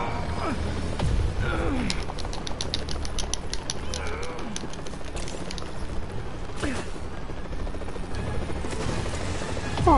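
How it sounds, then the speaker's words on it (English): Helicopter in a PS4 video game, a steady rotor whir and engine drone running under game sound effects and brief mechanical clatter, no one talking. "Stealing a chopper."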